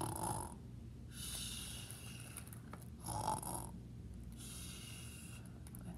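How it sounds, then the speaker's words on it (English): Snoring voiced during a storytime book reading, three rhythmic snore-like bursts spaced about a second apart, quiet and close, with faint background between them. "He snores."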